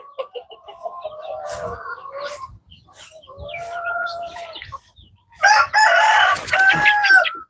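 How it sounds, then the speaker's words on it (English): A chicken clucks and makes drawn-out crowing calls outdoors in the Philippines, with a louder, harsher crow near the end; the calls come in bursts with short pauses, fairly close. "We got a chicken out here."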